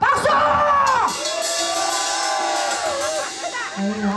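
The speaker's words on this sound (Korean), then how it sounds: "함성 박수!" Festival crowd at an outdoor traditional pumba performance in Daegu shouts and whoops loudly, a sustained wall of cheering with rising voices, fading toward the end as a voice speaks.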